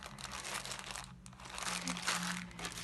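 A plastic bag of coloured beans is handled up close, giving a steady crinkling and rustling with a brief pause partway through.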